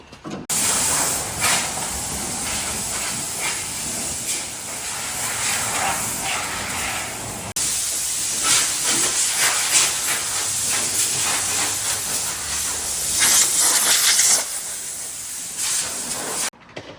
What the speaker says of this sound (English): ran out of compressor air. I'm gonna turn it on.